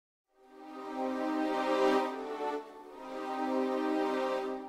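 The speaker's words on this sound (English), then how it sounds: "I've got 18 voices playing with one note and two microphone positions. Nine dynamics on these, on these Sordino sustains." A muted, sordino string ensemble of 18 voices from the Pacific Strings sample library sustains one note in two soft, swelling phrases, smooth and warm with gentle reverb.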